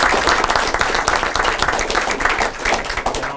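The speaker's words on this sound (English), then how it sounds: "I just want to give those gentlemen a big round of applause" Close, loud applause from an audience, with individual claps distinct and choppy in the mix, continuing unbroken with no talk.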